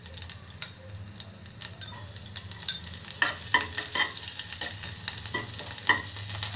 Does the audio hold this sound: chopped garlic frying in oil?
yes